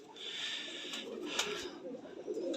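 Soft, repeated cooing of a pigeon, a low throaty call recurring a few times, faint and close in a quiet space with someone speaking briefly.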